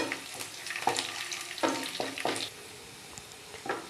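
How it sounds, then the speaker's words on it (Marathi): Raisins frying in a pan for halwa, a soft, fairly quiet sizzle broken by a few brief scraping stirs, no talking. "मनुके टाकून घेतलेत, परतून घेऊया"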